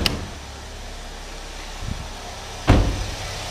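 A 2010 Chevy Equinox with its 2.4 liter Ecotec engine idles in a steady low hum, interrupted by a soft clunk and then a louder mechanical thump near the end.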